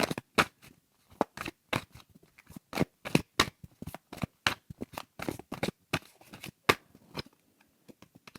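Tarot cards being shuffled and laid down one after another, a dense run of crisp, close card snaps and slaps in an uneven rhythm, with no talking.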